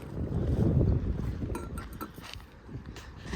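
Wind gusting at dawn in downtown Duluth, Minnesota, a low rumbling buffet that swells and eases over a few seconds, heavy near the start and settling after.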